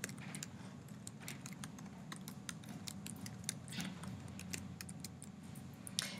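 Fingers tap out text on a computer keyboard, a quick irregular run of light, close key clicks over quiet room noise with no talk.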